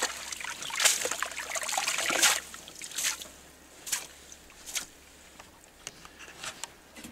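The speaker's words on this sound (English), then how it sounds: "Miner's moss, we do the same thing as you did with the yellow nugget mat. Just wash it off." Water washes gold specks off miner's moss in a gold trommel setup at Idaho City, giving a run of close splashing and trickling bursts in uneven pulses, with no voices.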